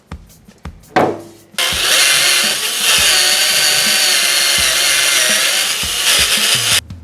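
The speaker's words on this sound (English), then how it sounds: "I'm just going to go over this, probably wire wheel it, and then clean the spindle off" A wire wheel on a power tool grinds over a car's brake spindle during a Wilwood front disc brake swap, a loud steady whirring scrape lasting several seconds after a few knocks, close and alone.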